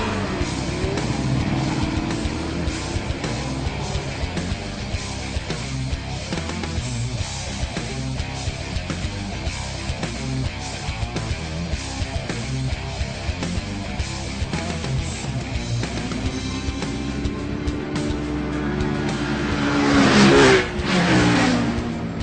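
Suzuki Gixxer sportbikes from the 2014 super middleweight class ride on the street, a steady engine drone that climbs into a louder rev near the end, with no talking.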